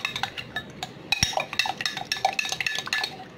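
A spoon stirs starch into a chocolate sauce mixture in a bowl, scraping and clinking against the sides in quick, uneven taps close by.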